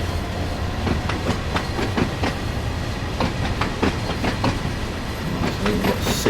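Freight train wagons rolling in the Train Sim World 5 game on the West Coast line near Acton, a steady rumble with regular rhythmic clickety-clack wheel beats over rail joints, loud and continuous, no voices.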